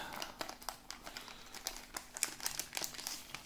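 Tape on a Bakugan package is cut, giving soft, close crinkles and small plastic snips in an irregular patter.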